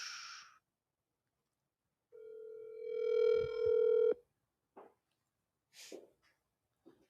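A telephone line connecting a caller on a live talk show: a short burst of noise, then a steady ringing tone of about two seconds that cuts off sharply, followed by a few faint clicks and rustles.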